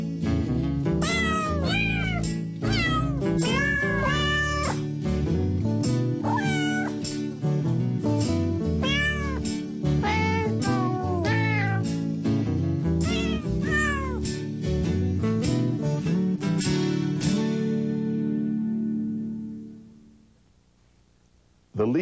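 Cats meow in a rhythmic, musical Jingle Cats recording, the pitched meows strung into a tune over a steady backing, loud and continuous for about eighteen seconds before fading out.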